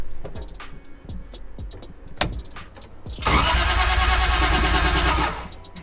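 After a few clicks and knocks, a Nissan S14's 2JZ engine cranks and fires, revving up loudly for a couple of seconds before the sound drops off.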